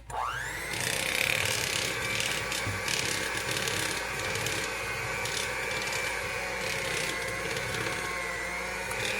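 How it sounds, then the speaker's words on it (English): An electric mixer beats a thick butter cake batter, its motor starting with a rising whine and then running as a steady close hum with scraping, rattling texture throughout. "Go ahead and turn on your mixer."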